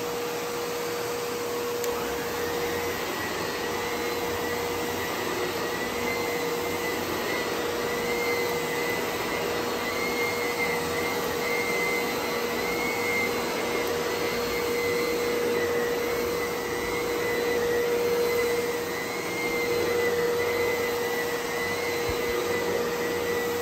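A Clean Obsessed C0888 canister vacuum cleaner runs over carpet with a loud, steady motor whine and airflow roar that holds constant, with only slight swells as it is pushed along.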